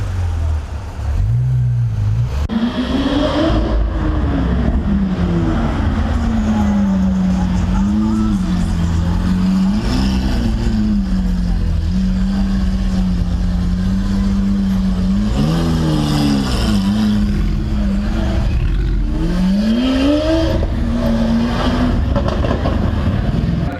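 A Lamborghini Aventador's engine roars loudly past on a Monaco street, the pitch climbing and falling through gear changes over about twenty seconds, with crowd noise underneath.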